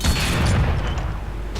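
A 100 mm tank cannon fires in the Roblox game Tankery: one loud, close boom with a heavy low thump at the start, trailing into a rumbling, noisy decay that lasts the rest of the moment.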